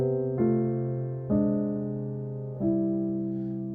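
Piano playing a gospel suspended chord progression with substituted left-hand notes, three sustained chords struck about a second apart and left ringing, close and alone.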